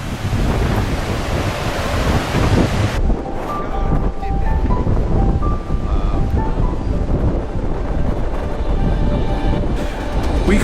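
Strong wind roars across an exposed coastline in Forillon National Park as ocean waves surge and crash, a dense, loud, continuous wash with gusty rumble throughout and no voices.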